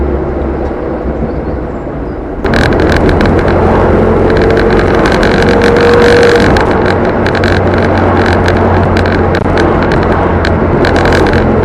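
Steady, loud road and engine roar inside the cabin of a Mk1 Ford Cortina at motorway speed, a broad constant drone with rattly vibration, growing noticeably louder after a quieter first couple of seconds.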